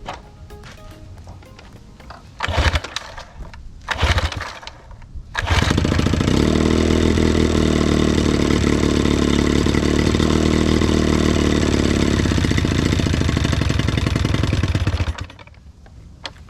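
A Johnson 9.9HP outboard boat motor with a dirty carburetor coughs through a couple of brief start attempts, then catches and runs loud and steady at close range for about ten seconds before dying off abruptly into quiet.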